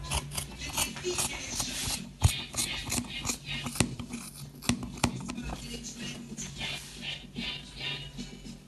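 Fabric being trimmed with scissors while cutting a Senator top, with repeated close snips and soft rustling of cloth in an uneven rhythm, quiet overall.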